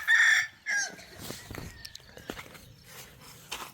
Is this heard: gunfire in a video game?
no